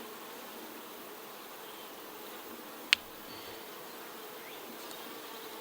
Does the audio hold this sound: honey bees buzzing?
yes